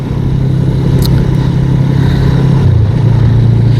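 Motorcycle riding along a coastal road in Tasmania's wild west, a loud continuous engine drone with wind rush, the engine note dropping slightly in pitch toward the end as it eases off; no talk.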